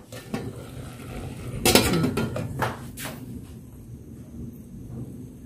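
A cooking pot clatters as it is handled and its lid lifted to check on rice, a few sharp metallic knocks and scrapes close by, then quieter rattling.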